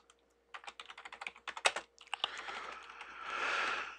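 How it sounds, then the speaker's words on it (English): Quick bursts of keystrokes on a computer keyboard at a desktop workstation, a rapid irregular clatter of close clicks with a brief pause, then a denser flurry of typing, with no voices. "I could type in as much as I want to the heart's content here"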